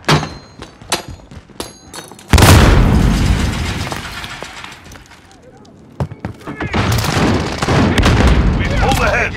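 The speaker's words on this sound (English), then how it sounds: "Grenade out!" A grenade bursts with a sudden heavy boom in Call of Duty Modern Warfare, breaking off sharp gunfire cracks and leaving a long rumbling roar. Further shots and blasts follow, with combat voices in the background.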